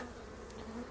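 Steady honey bee buzzing close by, a low continuous drone of bees hovering near the microphone at a hive, with no voices.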